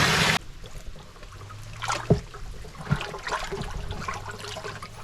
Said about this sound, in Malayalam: നല്ല രീതിയിൽ വെള്ളം ഒഴിച്ച് നന്നായിട്ട് ഒരു അര ഡ്രമ്മ് വരാൻ പാകത്തിന്